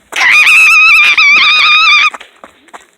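A chicken being chased outdoors lets out one loud, close, drawn-out squawk lasting about two seconds, harsh and honking in tone, then breaks into a few softer clucks.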